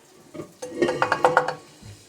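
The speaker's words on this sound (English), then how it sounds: "now let's stir this up" A spoon stirs gumbo with canned tomatoes, green chilies and tomato sauce in a pot, giving a short run of quick metallic scrapes and clinks, close and clear, with a soft wet slosh beneath.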